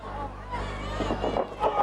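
A wrestling crowd cheers and murmurs for Ultimo Dragon at a 2005 match against Jack Evans. The broad babble swells briefly under a commentator's voice.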